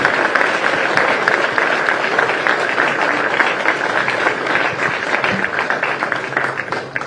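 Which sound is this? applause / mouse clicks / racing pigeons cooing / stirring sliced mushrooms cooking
applause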